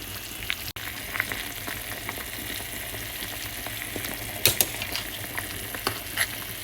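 Bulalo beef soup stirred in a pot, with soft scraping and clinks of a utensil and a low background bubbling, plus a couple of sharper knocks against the pot.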